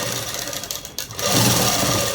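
A sewing machine stitching a seam runs with a close, fast mechanical whir, pausing briefly near one second before resuming louder and steady.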